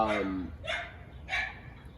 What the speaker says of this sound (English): let me see if I can shut that dog up